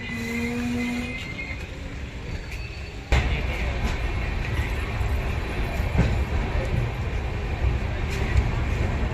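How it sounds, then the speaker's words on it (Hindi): Express train pulling out of Govindpuri railway station, running late, with a steady broad rumble of wheels and carriages that swells sharply after a few seconds and holds loud and continuous to the end, voices faintly present. "डिपार्चर हो चुका है गोविंदपुरी रेलवे स्टेशन से, और ट्रेन अपने यहाँ करीब 40 मिनट लेट आई है"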